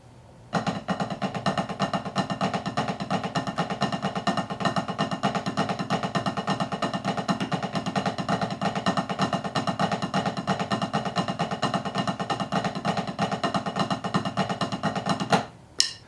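A snare drum plays a fast, steady stream of Swiss Army triplets with flam taps, dense and continuous for about fifteen seconds, then stops.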